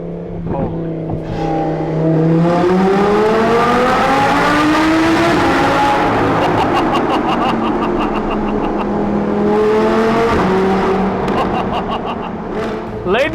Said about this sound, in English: we're driving an Audi R8